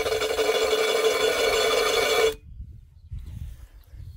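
A power drill bores into ceramic tile with a steady, loud grinding whir for about two seconds, then cuts off abruptly, leaving faint low rumbles and handling noise.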